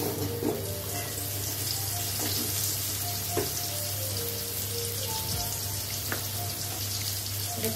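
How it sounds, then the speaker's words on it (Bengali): Carrots fry in hot oil in a home kitchen, giving a steady, dense sizzle with small crackling pops throughout and no voices. "ওটা গাজর আছে, আমি এটা ভেজে নেবো।"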